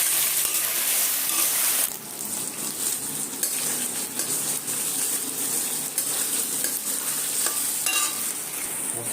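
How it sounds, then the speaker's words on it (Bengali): Boiled chicken fries lightly in a pan, giving a loud, continuous close-up sizzle that hisses on without a break, with a few soft stirring knocks now and then and no voices. "তো এবার আপনারা চিকেন সেদ্ধ করা চিকেনটা হালকা একটু ফ্রাই করে নিতে হবে।"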